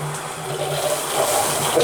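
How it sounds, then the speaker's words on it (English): A hotel shower head sprays water in its classic shower mode, a steady, fairly loud rush of falling water that keeps going without a break. "So there's the classic shower mode."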